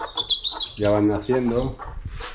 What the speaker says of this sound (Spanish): las gallinas y los pollitos